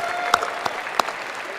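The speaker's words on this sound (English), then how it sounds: "let's give a big round of applause to the staff here at the Breslin Center" Crowd applause at a small-business gala dinner in the Breslin Center, Michigan: a dense, steady wash of clapping with a few sharper, closer claps standing out.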